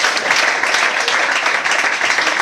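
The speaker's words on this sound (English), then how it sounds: "Can you clap your hand for her?" Audience clapping for an honoree at a 2016 competition ceremony: a brief, loud, continuous wash of many hands clapping together, with no voices.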